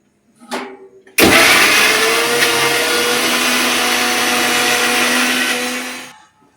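Kitchen mixer grinder blending lentils and tubers, switching on abruptly after a brief rattle, then running loud and steady for about five seconds before winding down.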